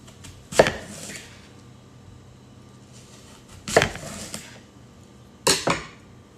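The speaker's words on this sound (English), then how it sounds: "Would you like some apple? I can cut you a slice." A knife cuts slices from an apple in three separate, close, crisp crunching strokes, with quiet handling in between.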